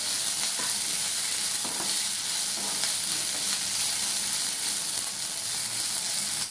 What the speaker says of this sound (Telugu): ఇప్పుడు మనం ముందుగా ఉడికించి పెట్టుకున్న మునగాకుని వేసుకుందాం. వేసుకుని ఇలా బాగా కలుపుకోవాలి.